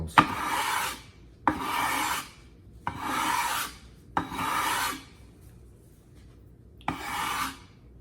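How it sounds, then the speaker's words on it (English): Hard green sharpening stone being flattened, five rhythmic rasping strokes, each starting with a sharp scrape and sustaining a gritty grinding rub, with short silent pauses between, close and clear with no talk. "First we're gonna flatten this very hard green stone"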